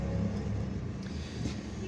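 Street traffic on a shortcut road in Algiers, heard from inside a car as a steady low rumble of engines and tires, with a faint pass-by swelling near the end and no talking.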